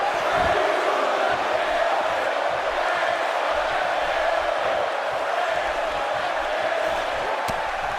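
A packed arena crowd in a WWE wrestling video game sets up a steady, dense roar of cheering and shouting under the match action.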